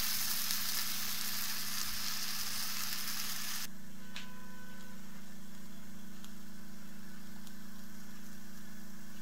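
A cheese sandwich grills in a pan. A steady hiss of frying is loud for the first few seconds, then drops to a faint sizzle over a constant low hum.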